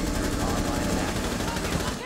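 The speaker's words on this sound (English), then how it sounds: "Keep shooting, keep shooting, keep shooting!" Rapid automatic gunfire from a Rainbow Six Siege match during a ranked site retake, a dense, continuous burst of loud shots filling the whole moment with no pause.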